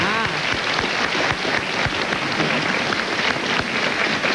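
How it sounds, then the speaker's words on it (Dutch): Steady applause from a studio audience on a Dutch TV show, dense and continuous throughout. "En applaus."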